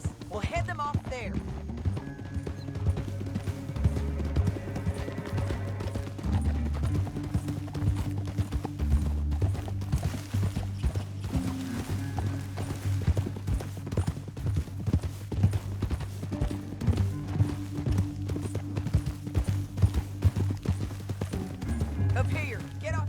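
Rapid hoofbeats of galloping horses pound steadily throughout in Red Dead Redemption 2, with music and occasional voices over them.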